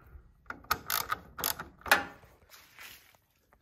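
A Torx T15 driver tightens headlight bolts on a Jeep Wrangler TJ, giving several quick, close ratcheting clicks in short bursts with brief pauses between them.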